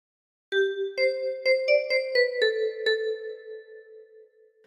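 The opening phrase of We Wish You a Merry Christmas is played on a 10-key kalimba, eight or so thumb-plucked metallic notes in a lilting rhythm, clear and close, each ringing over the next before the last note fades.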